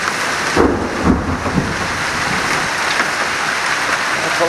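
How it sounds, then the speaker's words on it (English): Thunder after a huge lightning strike during a hail and rain storm, low rumbling bursts rolling over steady heavy rain and hail noise. "There was just a huge lightning strike."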